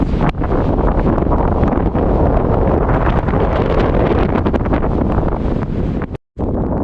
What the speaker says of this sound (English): That wind up there was fierce